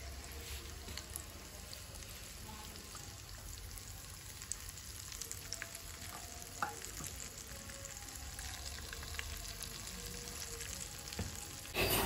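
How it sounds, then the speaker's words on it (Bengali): Cubed chicken pieces fry in a pan of oil, giving a soft, steady low sizzle with faint bubbling, quiet and continuous throughout, with occasional light clinks and no speech. "এই যে এখানে আমি কিউব করে কিছু চিকেন কেটে রাখছি, এগুলাও ভেজে নিচ্ছি।"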